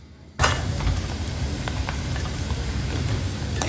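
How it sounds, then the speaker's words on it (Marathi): Onions frying in a pan for a village-style prawn biryani, a sudden burst of loud, dense sizzling that starts just after a quiet moment and carries on steadily. "एकीकडे कांदा फ्राय चालू होता"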